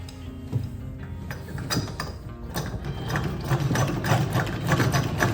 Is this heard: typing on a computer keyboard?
no